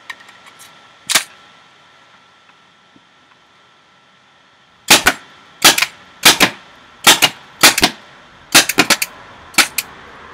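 A Tippmann TCR paintball marker running on CO2 fires mid-grade paint, with one lone sharp pop, then a quick uneven string of about nine loud, close cracks after a pause.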